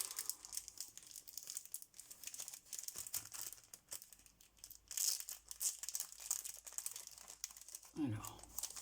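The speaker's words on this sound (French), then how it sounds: "il reste un paquet que je vais ouvrir. Alors, je l'ouvre." Wrapping paper on a gift package being torn and crinkled open, irregular close rustles and crumples, with a voice speaking intermittently over it.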